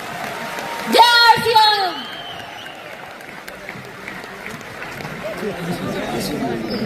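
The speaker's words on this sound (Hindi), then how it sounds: "ताली बजा दो फिर" A crowd applauds at an RCM business programme for core leaders in New Delhi, a scattered broad clapping that follows a loud chanted shout and carries on under background chatter.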